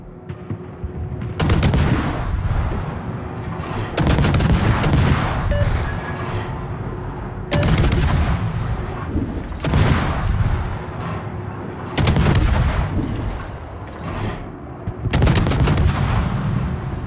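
Heavy naval guns firing from a cruiser in the World of Warships video game, booming in four or five loud, evenly spaced salvos, each with a long rumbling tail that fills the gaps between shots.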